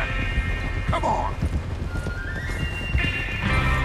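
Galloping horse hooves and a sharp whinny in the Red Dead Redemption 2 video game during a train robbery ride, steady rapid clopping with a brief neigh rising over it and a constant bed of game sound.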